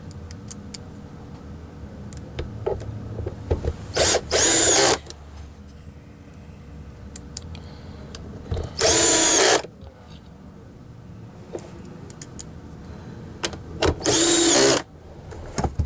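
A power driver runs screws into a Miele C3 vacuum cleaner under repair, three loud whirring bursts of about a second each, separated by quiet pauses with faint handling clicks.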